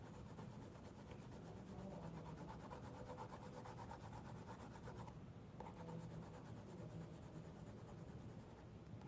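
A cheap colored pencil shades and blends on paper with light pressure, producing a faint, continuous scratchy rubbing of steady back-and-forth strokes, close and quiet, with no talking.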